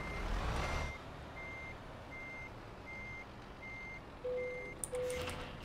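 Truck in Euro Truck Simulator 2 sounding steady reversing beeps, evenly spaced electronic tones repeating for several seconds over low engine rumble, with a short air hiss and a brief different alert tone near the end.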